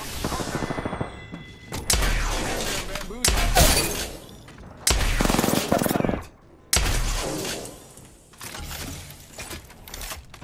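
Gunfire in the Apex Legends video game: several loud bursts of rapid shots separated by short pauses, with crashing impacts and game voice lines mixed in.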